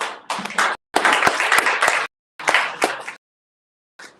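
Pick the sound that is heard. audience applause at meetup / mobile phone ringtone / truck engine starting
audience applause at meetup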